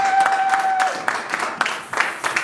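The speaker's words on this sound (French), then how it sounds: "für den Herrn klatschen" Church congregation claps for the Lord during a service, a steady rhythmic applause of moderate loudness with scattered sharper claps, while a voice speaks over it at first.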